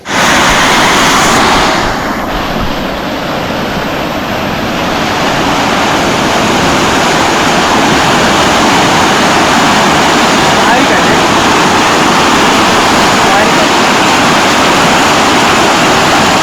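Loud, continuous roar of rushing floodwater after heavy monsoon rain, a dense steady wash of churning water close by with no letup throughout.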